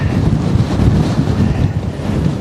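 A strong headwind on an uphill route buffets the microphone in a loud, continuous roar with gusty low rumbling and no speech.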